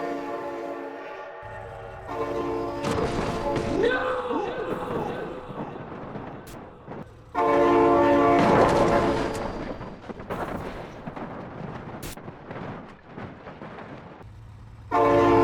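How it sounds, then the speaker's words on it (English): A train horn blares in long, loud, harmonic blasts while the train rumbles past, with shouted voices and sharp knocks mixed in, the horn returning near the end. "Oh my god, train!"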